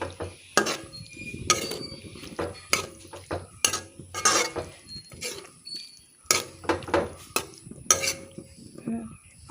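A pot of jackfruit seed curry being stirred, with repeated scraping and clinking of a spoon against the metal pot in irregular bursts, close and fairly loud, over a faint sizzle and no talk.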